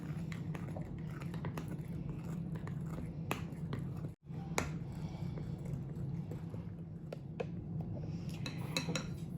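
Snickerdoodle bread ingredients being mixed in a bowl, a spoon clinking and scraping in steady, close, irregular strokes over a low hum, with one brief pause midway and no talk.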